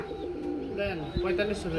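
A pigeon from an egg-laying pair offered for sale gives soft, throaty coos in a short, close burst, with a faint murmur of voices around it.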